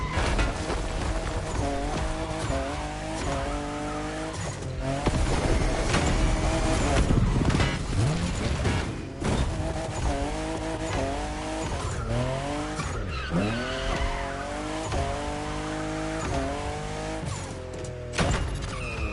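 A Toyota Supra, fifth generation, races in The Crew Motorfest with its engine revving up and down through repeated gear changes, plus tire squeal and skidding, loud and continuous under game music.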